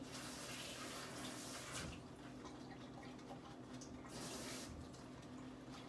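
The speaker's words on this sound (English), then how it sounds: "So I'm just gonna rinse this off and just cut it in." Kitchen tap water running as food is rinsed under it in a home sink, a continuous faint splashing hiss with slight shifts as the item moves through the stream.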